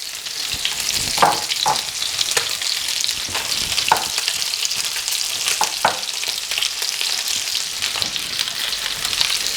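Spinach hitting a hot pan alongside cooking fish sizzles loudly and steadily, a continuous bright hiss with scattered crackles and pops throughout.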